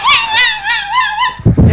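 A dog named Numa howls like a wolf: a long, wavering, rising-and-falling howl held close and loud, broken off at the end by a few short yips.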